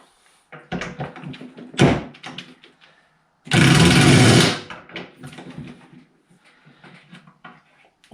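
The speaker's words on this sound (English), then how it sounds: "I could just try rattling these off with my big buffer" A big buffer power tool rattling bolts off a whacker plate engine pulled from a dumpster: clanks and knocks, then a loud harsh burst of impact rattling for about a second, followed by quieter metallic handling sounds.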